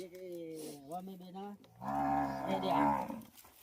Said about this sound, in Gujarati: જે ગાય આલવાની છે એ આર્ય ગાય છે